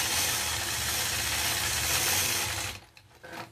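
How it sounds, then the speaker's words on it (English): A quilting sewing machine stitching a feather motif, a steady rapid mechanical whir with a low rhythmic hum that stops abruptly near the end, leaving faint handling noise. "Now I can stitch right along the other side to go around that."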